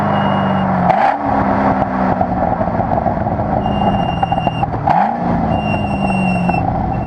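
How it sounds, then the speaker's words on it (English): Car with an LS engine and unidentified aftermarket exhaust revving: a loud, close, continuous throaty drone swelling through two distinct rev sweeps over a sustained rumble. "this car has an unidentified aftermarket exhaust"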